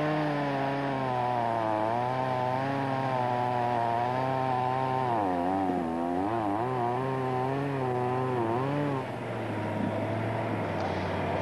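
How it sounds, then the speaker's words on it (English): Chainsaw running continuously at a forest rally stage during the 1995 Transsylvania Trophy, revving up and down as it cuts logs blocking the track; loud and steady, with a droning harmonic whine that wavers in pitch. "there's times when you've got to get out the chainsaw and start chopping up the logs"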